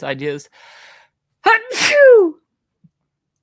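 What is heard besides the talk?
sneeze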